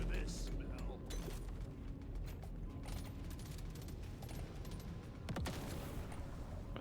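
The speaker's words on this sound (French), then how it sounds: "on balance beaucoup plus de grenades" Grenades explode in the game Deep Rock Galactic: Survivor as a dense, continuous rumble of blasts and crackling debris, loud and busy throughout, with a sharper burst near the end.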